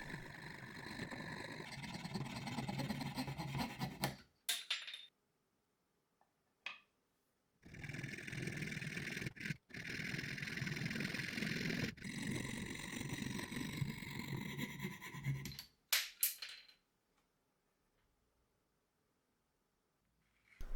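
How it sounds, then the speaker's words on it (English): Fret saw cutting the top profile out of a wooden crankbait lure, a steady buzzing rasp of rapid strokes in close bursts of several seconds, separated by short pauses. "Now I cut the top profile out, following the lines with a fret saw."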